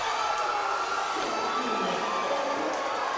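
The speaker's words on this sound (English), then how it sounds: "As the crowd just goes crazy." A stadium crowd roars for a San Antonio Gunslingers touchdown in a game against the North Texas Bulls, a steady distant wash of cheering and shouting with no pause.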